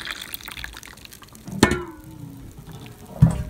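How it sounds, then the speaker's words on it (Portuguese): Hot water poured into a cup to make a drink, a gurgling liquid pour with two louder splashing moments, close up and without talk. "E depois só despejar água quente."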